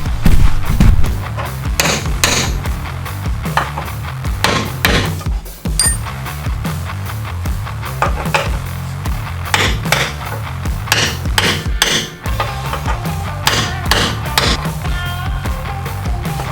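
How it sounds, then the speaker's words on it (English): A hammer strikes to punch out a rivet on a 2016 Toyota Tacoma frame, producing rapid, loud, close metallic blows that ring hard and repeat almost without pause. "and then I'm going to try to punch that out."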